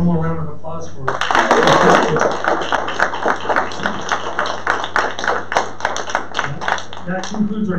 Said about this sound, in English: Let's have one more round of applause for it.